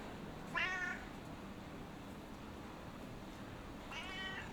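A cat in the video game Broken Sword: Shadow of the Templars meows twice, once early and once near the end, each a short clear call over a faint steady hiss.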